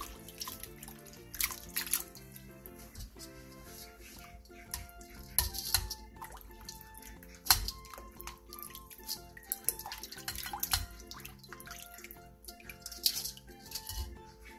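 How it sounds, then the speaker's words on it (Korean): Water drips and splashes from cucumbers rinsed in cold water, with scattered wet drops and trickles at an uneven rhythm over quiet background music. "오이를 찬물에 헹궈 물기를 충분히 빼놔주세요"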